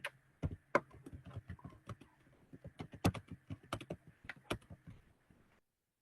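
Participants typing comments on computer keyboards during an online group meeting, producing faint, close clusters of irregular key clicks and taps that thin out toward the end, with no talk.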